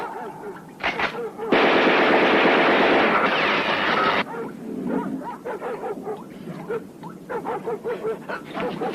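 Loud gunfire from a western film: a short burst, then a sustained roar of rapid shots lasting several seconds, followed by scattered dog barks and yelps.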